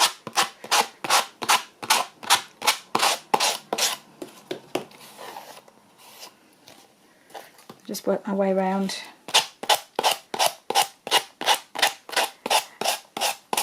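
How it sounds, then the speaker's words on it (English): Sandpaper rasps over the edge of a handmade writing board for a sewing journal, a steady series of about twenty short rhythmic scrubbing strokes close up, pausing midway for a quiet spoken phrase before the strokes resume. "I'm going to start by doing a bit of the old"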